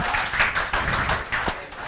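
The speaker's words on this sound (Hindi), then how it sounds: "जोरदार तालियां बजाओ, बजाओ" A classroom group claps in applause, a quick run of loud, close hand claps in uneven bursts that fade slightly toward the end, with no talking heard.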